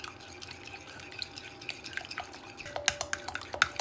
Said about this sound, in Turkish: Bu sıvıları şöyle birazcık karıştıracağım.